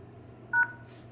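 A single short DTMF keypad tone from a Yealink office desk phone dialing a star code, heard faintly against a quiet steady room hum.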